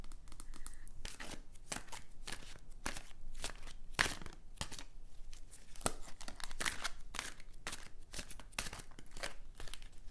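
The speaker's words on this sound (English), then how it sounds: "I will be shuffling your cards right now" Tarot cards are shuffled in a steady stream of rapid, crisp riffling and flapping, close up and fairly quiet, with no talking.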